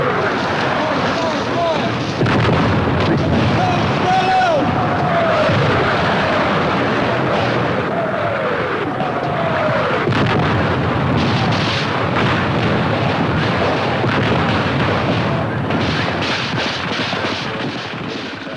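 Booming artillery fire and explosions at a Vietnam War reenactment blend into a loud, continuous roar mixed with aircraft engine noise, overlapping shouted voices and rising and falling whistling tones, dense and chaotic throughout.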